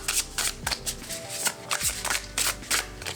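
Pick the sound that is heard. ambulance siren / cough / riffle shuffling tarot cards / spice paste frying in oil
riffle shuffling tarot cards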